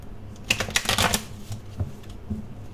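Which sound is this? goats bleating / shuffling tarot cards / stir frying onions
shuffling tarot cards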